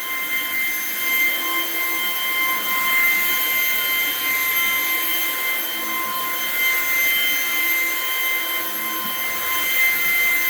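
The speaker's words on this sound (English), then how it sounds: "we were using a portable vacuum on these" A portable vacuum cleaner cleans rental rugs in a janitorial setting, a loud, steady, high-pitched motor whine with a constant airy roar that runs unbroken throughout with no voices.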